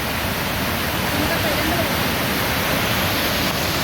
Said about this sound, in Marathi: पाणी बघा किती वाहत आहे आता पाऊस झाला ना खूप पाणी वाहतं